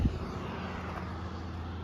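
Loud highway traffic beside the Morro Peak trailhead in Jasper National Park: a steady, dense roar of passing vehicles with deep rumble, continuous throughout and nearby, with no talking.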